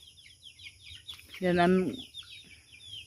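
Chicks keep up a steady, high, thin peeping while a person says a short word over them, with a brief louder clucking-like burst in the middle, all close by.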